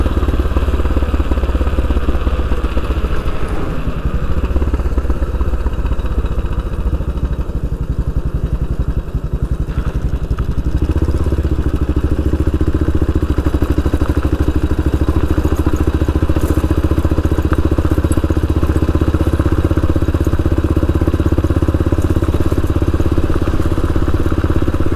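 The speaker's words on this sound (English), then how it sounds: "This old bike, it just chugs up the hill here." An old Yamaha XT500 single-cylinder motorcycle chugs steadily up a hill on a Saskatchewan road near Crooked Lake. The engine gives a loud, continuous low thumping throughout, with no voices over it.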